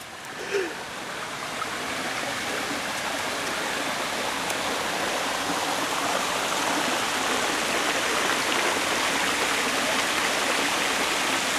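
A waterfall in Caboolture Parklands pours in a steady, broad rush of falling water, constant and fairly loud throughout with no break.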